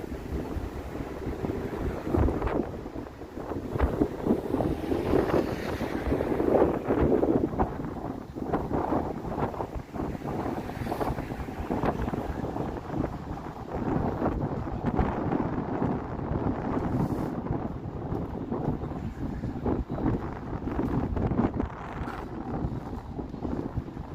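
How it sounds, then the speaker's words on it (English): Bitter cold winter wind buffets the microphone on a snowy Toronto downtown street in the evening, a low rumbling gusty roar that surges and fades throughout, alone with no talking. "this wind is bitter cold"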